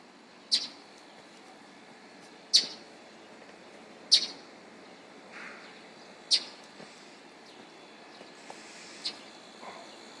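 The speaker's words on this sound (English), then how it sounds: "See that bird? It's trying to get me." A bird gives short, sharp, high chirps outdoors, about five of them spaced a second or two apart. The calls are fairly faint against a quiet background.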